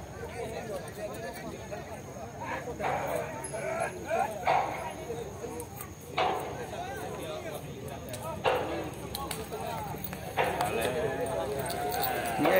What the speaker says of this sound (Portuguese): cavalo passando